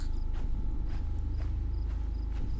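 Heavy, evenly spaced footsteps stomp in Slender The Arrival, about one thud every half second, close and steady over a low droning ambience with no talk.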